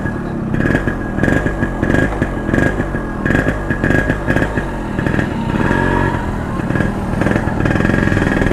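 A Yamaha RX100 two-stroke motorcycle engine runs nearby, giving a loud, rapid popping idle with a few throttle blips that swell into raspy revs.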